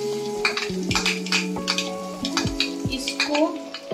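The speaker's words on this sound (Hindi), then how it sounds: "अब हम इसमें ऐड करेंगे ये प्याज," Onion fries in ghee and butter in a pan for street-style masala Maggi, soft sizzling under repeated stirring clinks and scrapes of a utensil against the pan, close and fairly quiet.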